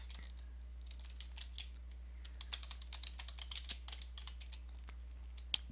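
Keys clack on a computer keyboard as a bank name is typed in, a quick run of light, close taps with uneven pauses over a low steady hum, ending in one louder click.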